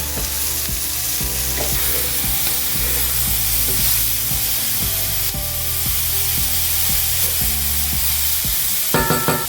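Minced garlic sizzles loudly in a hot skillet with a dense, steady crackle, while a spatula taps and scrapes rhythmically against the pan, ending with a few sharper clinks.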